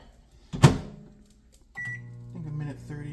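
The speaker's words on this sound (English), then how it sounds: "Then we'll microwave this until it's done." A microwave oven cooking instant noodles: a sharp click or thud, then the steady low hum of the running oven with faint rattling, heard close up in a kitchen.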